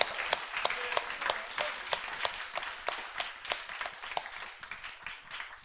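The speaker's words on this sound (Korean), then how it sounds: "하나님 앞 또 한번 감사 박수 올려드립니다" A church congregation at a Sunday worship service claps together in thanks, a dense, even patter of many hands lasting several seconds, moderately loud and without speech.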